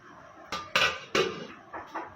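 Beef being stirred in a cooking pot, a series of five sharp metallic scrapes and clanks of a utensil against the pot, close and fairly quiet, with no talking.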